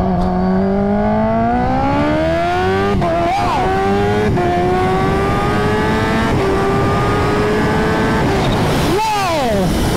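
A supercharged Kawasaki Ninja H2 motorcycle accelerates hard in first gear, its engine note climbing loud and close over several seconds. A rider's voice is heard over the roar, and the engine revs drop sharply near the end.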